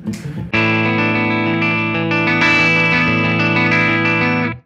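An electric guitar chord rings out loud and sustained after a quick strum, holding steady with a bright, slightly processed tone before cutting off.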